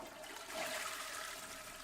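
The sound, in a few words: shower running in The Sims 4 video game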